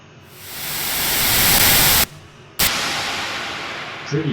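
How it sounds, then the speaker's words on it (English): Soloed white noise from a music mix, its gain automated, rises from quiet to a loud, harsh hiss, cuts out abruptly for half a second, then returns and holds steady. "as you can tell, because, well, it's white noise, right?"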